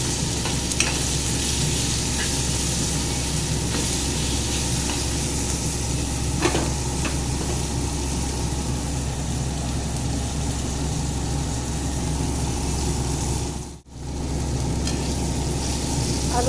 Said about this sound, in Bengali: এটা দিয়ে একটু লাল করে আলুটাকে ভেজে নেব।